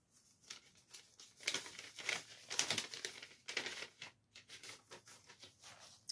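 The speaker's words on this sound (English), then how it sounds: "And it's wrapped in this white tissue paper here." White tissue paper wrapping a Christmas card crinkles and rustles in bursts as it is handled up close, with short pauses between the crackly handling sounds.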